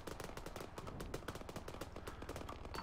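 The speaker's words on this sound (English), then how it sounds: "that gunship is murdering everybody" Gunship gunfire in ARMA 3, a dense continuous rattle of rapid heavy shots, loud and relentless, with no talk over it.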